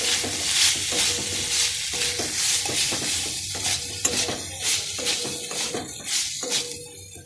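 Ginger paste and cauliflower stir-fry in a pan with a steady close sizzle, while a utensil scrapes and stirs in repeated strokes throughout.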